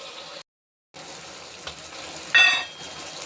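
Onion and tomato sautéing in a pan for puli kulambu give a steady sizzle that cuts out briefly, then swells into a louder hiss near the end.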